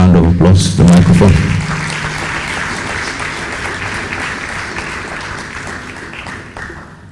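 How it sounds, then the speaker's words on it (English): Audience applause at an annual lecture greets a cardinal as he is invited up, dense clapping that starts loud under a brief voice, then settles into a steady, gradually fading patter. "Please let's give him a round of applause."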